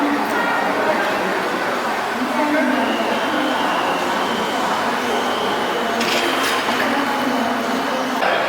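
Beijing metro train at Xi'erqi station on Line 13 during morning rush hour, a steady rumble of train and crowded platform noise continuing throughout with chatter mixed in and a brief brighter clatter near the end.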